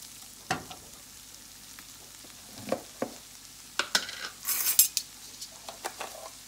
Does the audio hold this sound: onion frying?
yes